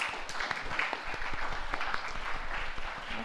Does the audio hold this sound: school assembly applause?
yes